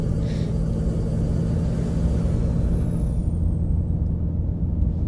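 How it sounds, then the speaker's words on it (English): A truck's transmission retarder in Euro Truck Simulator produces a loud, steady low rumbling drone, with a high whine that slowly drops in pitch and fades partway through. "That is a noisy transmission retarder."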